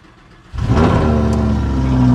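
Lamborghini engine starting: a brief quiet moment, then the engine catches with a sudden loud roar that flares and settles into a strong, steady, rumbling idle close by.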